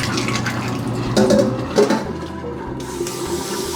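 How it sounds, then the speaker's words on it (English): Tap water runs steadily over Hestra leather ski gloves being rinsed, a continuous close splashing wash with a couple of brief louder gushes as the gloves shift under the stream. "Gonna give it a rinse with regular water."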